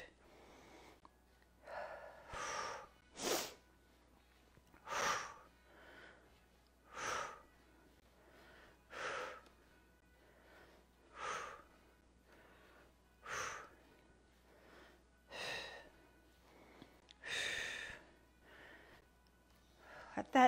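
Rhythmic exhaled breaths during a board workout with elbow lifts toward the ceiling, about a dozen short forceful puffs spaced every second or two, close and fairly loud over a quiet low hum.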